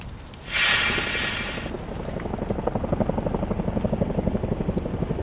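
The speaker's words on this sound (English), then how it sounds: "you may be able to hear the helicopters flying in the distance" Low rhythmic thudding of a helicopter rotor, steady and distant, with a brief burst of broadband noise near the start.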